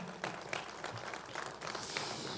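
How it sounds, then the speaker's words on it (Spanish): Church congregation applauds a man named Oscar, faint, distant clapping from a crowd that runs evenly through the short stretch with a slight lift near the end, no voices on top. "Démosle un aplauso, por favor."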